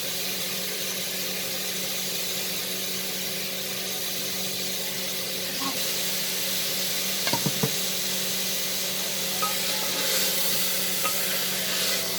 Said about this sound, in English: Saute it with the masalas for about 3 minutes.